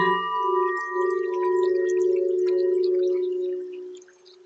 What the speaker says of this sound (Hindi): घंटी की आवाज धीमी होती जा रही है।